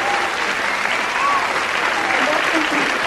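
Competitors at the 1986 Eurovision Song Contest stand and applaud the winner from Belgium, a dense, steady wash of crowd clapping filling the hall throughout.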